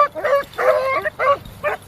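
A young puppy yips in four short, high bursts with brief pauses between, close by and outdoors in light wind, with no talking.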